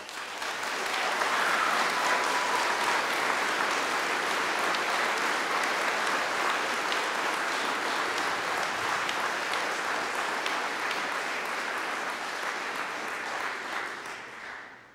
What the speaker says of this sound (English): can we give the students one more round of applause?